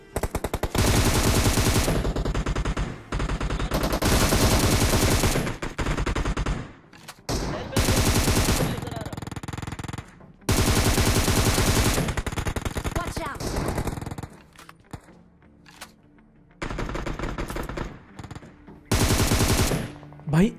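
M762 assault rifle in PUBG Mobile firing in long, loud automatic bursts separated by short gaps, a close and dense rattle of gunfire, with speech heard between bursts.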